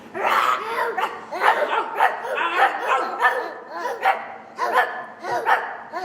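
Several children's voices bark and growl in quick overlapping bursts, imitating fierce dogs, with a bit of laughter mixed in.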